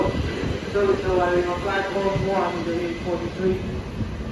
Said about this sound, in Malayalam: കുറച്ച് നേരത്തെ കാത്തിരിപ്പിന് ശേഷം നമ്മുടെ ട്രെയിൻ എത്തിയിരിക്കുകയാണ്